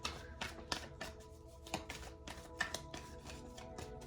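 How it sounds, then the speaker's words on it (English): Close, quiet shuffling of a tarot deck, a rapid series of crisp riffling taps and card slaps repeating steadily throughout with no talk. "So let me shuffle."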